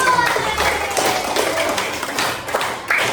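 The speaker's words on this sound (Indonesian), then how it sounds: "Tepuk tangan untuk kalian." Students in a classroom clap together for a few seconds, a dense, uneven patter of hand claps with scattered taps and thuds, fairly loud and close, with murmured voices underneath.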